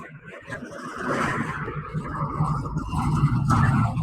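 A car travels along a highway near Mahuva in the rain, its loud, continuous low road rumble and tyre hiss building steadily close by.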